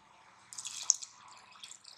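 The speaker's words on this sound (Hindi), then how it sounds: "अब इसमें हम डाल देंगे पानी" Water is poured from a glass into lentils in a pot for dal, giving a short splashing, dripping burst that starts after a quiet half second and then trails off into fainter trickles, close and alone.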